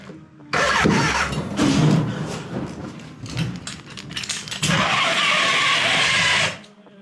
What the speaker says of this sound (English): Ooh, I heard the start of an engine.